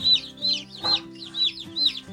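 Young Cornish cross and Buff Orpington chicks in a brooder, giving repeated high, rhythmic cheeping calls about every third of a second, close and steady with a low hum underneath.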